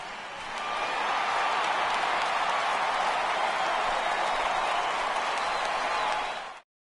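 A home baseball crowd at an Indians game applauds a departing pitcher, broad sustained clapping and cheering swelling in and holding steady for several seconds before cutting off abruptly.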